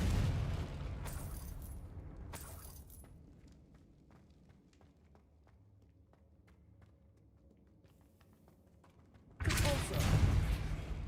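A Confringo fire-spell blast in Hogwarts Legacy erupts loudly and suddenly near the end, following quieter footsteps and mechanical creaks, with earlier brief bursts of noise.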